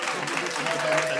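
A studio audience on a French dating show applauds steadily to vote for a contestant, a brief even wash of clapping at moderate level.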